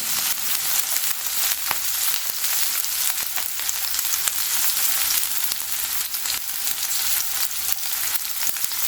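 Ivy gourd (tindora) sautés in a pan with a constant bright, dense sizzle and crackle, occasional small pops, and no voices.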